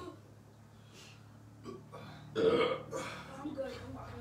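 A loud burp after drinking Sprite with bananas rises around the middle of the short stretch, with lesser throaty rumbles and breaths after it and voices mixed in.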